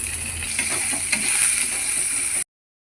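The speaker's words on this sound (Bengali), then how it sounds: "এরকম কড়াইতে আমি সয়াবিনটা দিয়ে দিচ্ছি, অল্প করে একটু নাড়াচাড়া করে নেবো একটু লবণ দিয়ে।" Soybean chunks frying with salt in a wok, giving a steady, close, broadband sizzle that runs evenly for more than two seconds and then cuts abruptly to silence.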